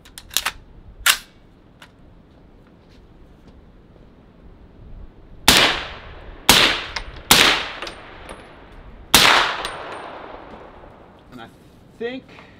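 Rifle shots fired at a bowling ball ring out outdoors: a few sharp cracks early, then four loud, spaced reports each trailing a short echo, with faint talk in between.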